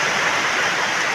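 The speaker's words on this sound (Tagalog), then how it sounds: "Ang lakas na naman po ng ulan." Heavy rain falling, a dense, steady hiss of water with no breaks, loud and close, with no voices.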